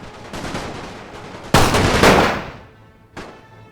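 Gunfire in the Napoleonic-era strategy game Napoleon: Total War, The Great War mod: a low rumble of distant shots, then a loud crackling volley that fades out, followed by another sharp burst.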